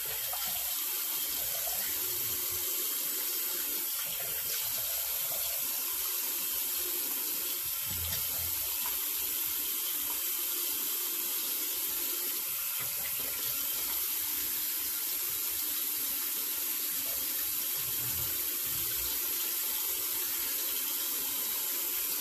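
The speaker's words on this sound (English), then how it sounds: "This will be a longer rinse because I have to get all the soap out of my ear too." Tap water runs steadily into a sink to rinse off shaving soap, a loud continuous hiss and splash that stays even from start to finish, no voices.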